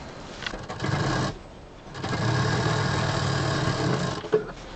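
A sewing machine stitching a quilted travel bag, its motor whirring steadily in two close runs separated by a short pause.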